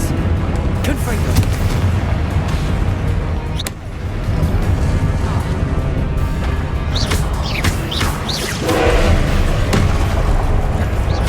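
Confringo blast spells exploding in Hogwarts Legacy, a series of sharp booms and crackling bursts over dense continuous combat noise and a game score, with brief impacts recurring throughout.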